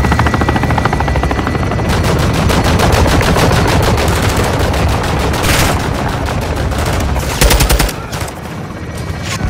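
A loud, sustained barrage of rapid machine-gun fire and heavy shots in Call of Duty Modern Warfare 2, with a helicopter-like roar underneath, the bursts running almost nonstop before easing near the end.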